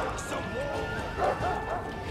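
Dogs barking amid a battle in the strategy game Total War Arena, with horses nearby; a few yips rise over a steady mix of game noise and clatter, and a voice talks over it.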